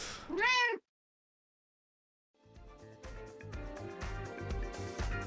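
A cat gives a single clear, close meow, followed by a short silence and then rhythmic music.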